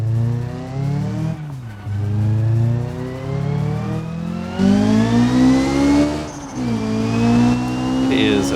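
A Covette sports car engine in the BeamNG driving game revs hard and loud, its pitch rising and dropping through repeated gear changes and throttle swells, a continuous close roar throughout.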